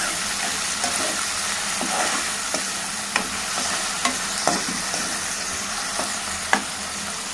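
Salt and turmeric are stirred into a sizzling pan, a steady frying hiss broken by regular sharp taps and scrapes of the spoon against the pan, close and alone.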